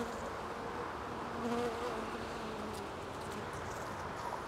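Dense, steady buzzing of many honeybees in an open hive during a colony inspection of Langstroth and Segeberger boxes, a continuous close hum with faint tonal whines from individual bees flying nearby.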